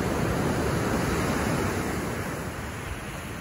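Ocean waves wash onto a Santa Barbara beach in a steady, dense roar that stays loud and continuous throughout, with a constant wind-like hiss and no distinct breaks or voices.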